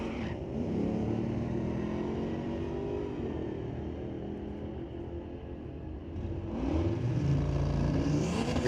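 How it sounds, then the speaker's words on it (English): A 1966 Chevy II and a 2014 Roush Mustang drag race at a raceway, with engines droning steadily at mid distance before one rises into a louder, closer revving roar near the end. "A 66 Chevy 2 racing a 14 Roush Mustang out of Coquitlam."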